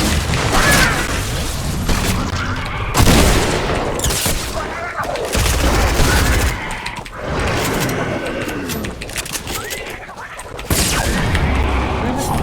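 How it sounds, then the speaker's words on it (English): Gunfire in a Fortnite solo tournament match, dense bursts of shots and loud impacts layered over busy game sound, with a player talking throughout. "we have someone shooting at me"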